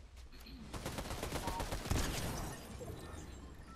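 Rapid automatic gunfire in Fortnite, a fast string of shots building to a loud burst near the middle, then trailing off into softer fire.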